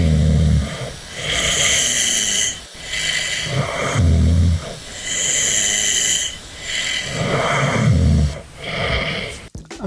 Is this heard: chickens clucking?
no